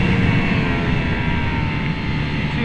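Ducati Streetfighter V4 S engine roaring under hard acceleration, a loud sustained low rumble with wind noise, heard from on the bike with no talking.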